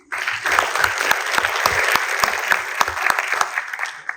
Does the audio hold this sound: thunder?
no